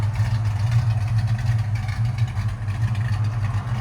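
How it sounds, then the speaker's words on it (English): A 1971 Mustang Mach 1 with a 351 V8, headers and a custom H-pipe idles close by, a loud, steady low rumble with a slightly lumpy pulse throughout. "I love that idle on it"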